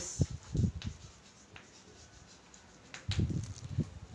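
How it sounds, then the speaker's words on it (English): A marker writes on a board during a class lesson on cellular respiration, giving two close groups of short scratchy strokes with a quiet pause between them and no talking. "So I will write that for you now"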